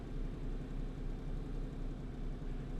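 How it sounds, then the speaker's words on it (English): Low vehicle engine droning steadily in first gear in the video game DayZ, a continuous rumbling hum with slight rhythmic swells and no voices. "when I drop to first gear, the revving gets crazy weird"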